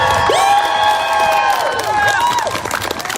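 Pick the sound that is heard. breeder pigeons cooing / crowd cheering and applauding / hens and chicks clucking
crowd cheering and applauding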